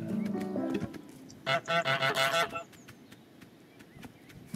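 A goose in Untitled Goose Game gives a burst of several loud, nasal honks in quick succession, set against quieter game sounds before and after.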